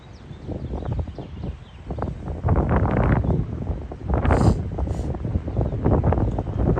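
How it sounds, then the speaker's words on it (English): Gusty wind buffets the microphone in loud, rough rumbling waves that rise and fall, with faint higher chirps briefly poking through, outdoors on a cold, rainy day in Fort Wayne, Indiana. "It's windy, rainy."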